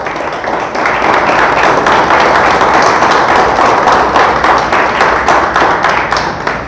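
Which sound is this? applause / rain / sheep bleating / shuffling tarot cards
applause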